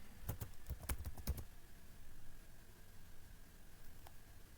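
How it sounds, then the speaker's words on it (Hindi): A quick burst of several crisp keystrokes on a computer keyboard, close and fairly quiet, as a command is typed, followed by a low room hiss and one faint later click. "यहाँ पे टाइप करेंगे मेक माइग्रेशन"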